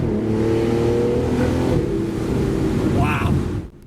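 An Aston Martin sports car engine revs and pulls hard, its loud, close roar holding and climbing before cutting off abruptly at the end.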